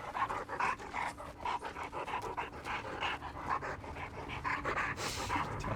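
The Houndmaster's dog in Dead by Daylight pants rapidly and continuously, quick rhythmic breaths close up at moderate volume for several seconds; no speech.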